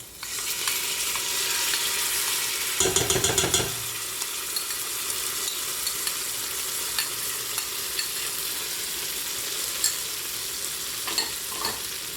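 Garlic paste and chili pepper pastes sizzle steadily in a hot pan for a vegan carapulcra, with a burst of stirring and scraping partway through, then the even frying hiss continues alone with a few faint clinks.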